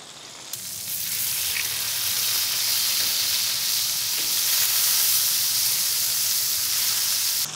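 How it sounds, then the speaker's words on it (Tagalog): Chicken breast fries in olive oil in a pan, producing a loud, steady sizzle that starts abruptly and holds as a continuous bright hiss throughout, with no talking. "After nating mamarinate yung mga chicken breast, ipapan fry natin siya ngayon."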